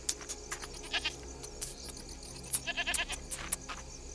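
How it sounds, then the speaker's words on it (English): A reluctant goat balking at a doorway lets out a string of short, nasal bleats, close and moderately loud, amid faint background ambience. "The goat balks at crossing the threshold. She lowers her head and bleats"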